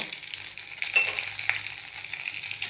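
Grated coconut fried with onion, garlic and masala in a pan for amti, giving a continuous bright sizzle with a few stirring scrapes, close and steady, with no talk.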